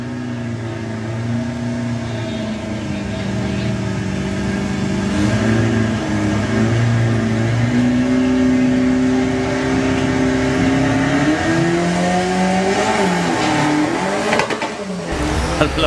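A VW Beetle and a dragster race down the Santa Pod drag strip at a Beetle drag racing event, a long loud engine roar holding and shifting pitch as the cars accelerate, ending abruptly.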